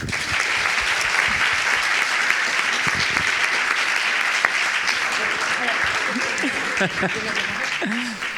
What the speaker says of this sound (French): moi j'ai envie de t'applaudir pour ce discours